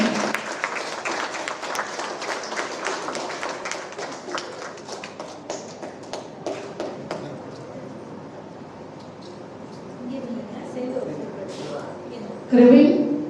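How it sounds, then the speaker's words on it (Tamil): Audience clapping at a children's award ceremony, a burst of scattered applause that thins out and fades, followed by low room noise and a brief voice near the end. "அனைவரும் கைத்தட்டி உற்சாகப்படுத்தவும்."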